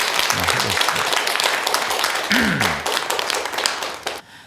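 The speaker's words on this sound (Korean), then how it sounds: "박수 한번 같이 주시고 하겠습니다." Audience applause at a lecture on thirty years of insomnia, dense steady clapping that fills most of the stretch with a voice briefly heard over it, then cutting off at the end.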